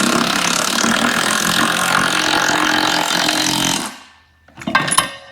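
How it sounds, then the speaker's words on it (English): A power driver runs self-tapping screws into plastic on a kindling cracker: a loud continuous whirring drive for about four seconds, then a short pause and a brief second burst. "These are self-tapping screws, so let's see how good they go through the plastic."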